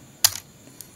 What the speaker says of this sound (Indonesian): di Chrome ini teman-teman, kita ketikkan alamat routernya tadi